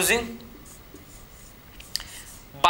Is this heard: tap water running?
no